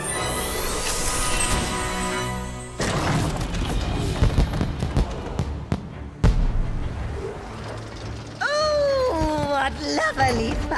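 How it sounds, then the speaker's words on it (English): Fireworks in the video game Puppeteer give booming bursts and crackling sparks over game music, with a whistling rise near the end, loud and close. "What lovely fireworks! Each a flower of sparks growing in the garden"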